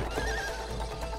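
A horse whinnies in a short, wavering neigh over a steady low rumble, close and fairly loud, in the video game It Takes Two.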